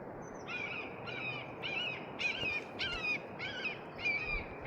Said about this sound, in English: There's a couple of hawks having a hard day here.